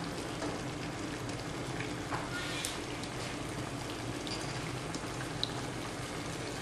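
Steady crackling sizzle of mustard seeds, cumin and asafoetida frying in hot oil for a dal tempering, continuous and close, with a few faint pops over the hiss.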